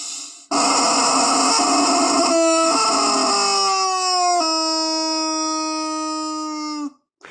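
A squeezed rubber chicken toy gives a single long, shrill squawk that blares for several seconds, its pitch sliding and wavering before it cuts off abruptly.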